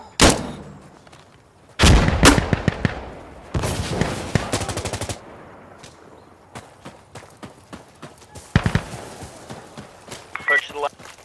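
Rifles fire in the tactical shooter Insurgency Sandstorm: sharp single shots and rapid automatic bursts, some close and loud, others further off, with a voice shouting between them.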